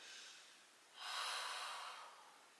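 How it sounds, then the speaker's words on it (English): Deep breathing during a yoga stretch: a quiet, close airy exhale that swells suddenly after a softer intake, holds for about a second and slowly fades, with no talk. "Deep breath in and out"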